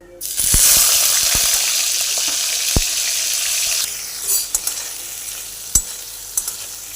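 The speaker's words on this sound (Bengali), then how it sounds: "এর মধ্যে আমি চিংড়ি মাছগুলো হালকা করে ভেজে নেব।" Prawns fry in mustard oil in a wok with a loud, steady sizzle that runs for about four seconds, then dies down to a softer crackle broken by a few sharp utensil clicks.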